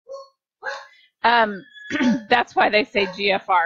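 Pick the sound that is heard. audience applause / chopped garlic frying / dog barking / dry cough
dog barking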